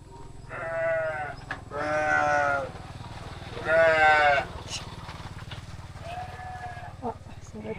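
Ewes bleat near a roadside around Batukaras, Indonesia, with four loud, wavering calls in close succession and short pauses between them over steady low background noise.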